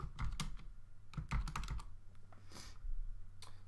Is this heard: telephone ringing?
no